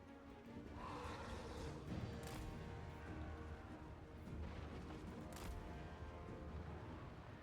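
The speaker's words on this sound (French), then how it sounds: "C'est 245, ça tire loin quand même les canons." Distant booming land-ship cannon shots in a Total War strategy game, a couple of sharper blasts standing out over a continuous rumbling battle backdrop.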